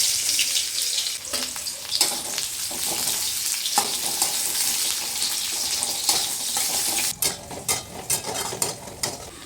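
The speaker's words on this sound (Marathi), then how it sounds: "आता ह्याच्यात कांदा टाकून घेऊ." Onion hits hot oil in a pan for a home-style pasta tempering, sizzling loudly and continuously up close, with scraping stirs and a few sharp crackles toward the end.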